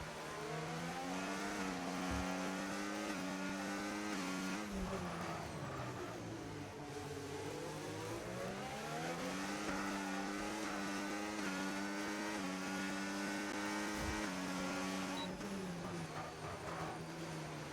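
Formula 1 race cars in a video game at the Singapore circuit whine through rising and falling engine notes as they accelerate and shift, a continuous layered engine drone with no talk.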